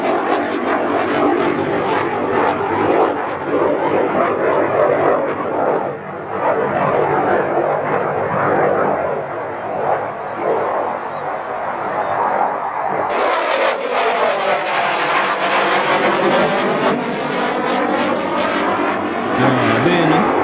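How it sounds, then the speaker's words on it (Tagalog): Polish Air Force FA-50 jet flying a display, a loud roaring engine sweep that swells and then shifts into a rising, Doppler-like whine, with voices talking over it. "ipinakita ng Polish Air Force ang bagsik ng FA-50 sa himpapawid"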